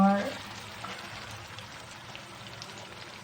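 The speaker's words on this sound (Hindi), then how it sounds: "हम इसको डीप स्लो आंच पे फ्राई करेंगे और वेट करेंगे कि ये गोल्डन हो जाए" Pieces of Lahori-style fish deep fry over a slow flame, giving a soft, continuous bubbling sizzle of oil with small crackles, steady and unaccompanied by speech.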